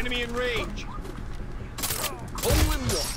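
Bursts of gunfire in Far Cry 3, two dense volleys in the latter half, with people talking and chattering throughout.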